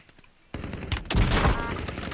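Gunfire in a video game: a quiet start gives way to a sudden loud, sustained burst of rapid shots that keeps rattling to the end.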